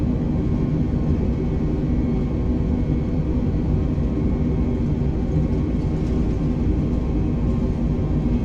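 Airliner engines roar at takeoff thrust in Microsoft Flight Simulator 2020, a steady, dense low rumble with a constant hum, unbroken and loud from start to finish.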